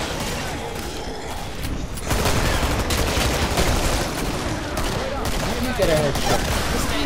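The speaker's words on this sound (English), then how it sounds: "I get a bit overexcited with this Tommy gun, you see." A Tommy gun fires in sustained rapid bursts in the zombie shooter game Killing Floor, dense and loud for several seconds, with mechanical clatter and occasional booms under the gunfire.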